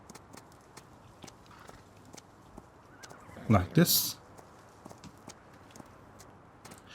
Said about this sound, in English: Now, just with all the other horses, you can ride them around.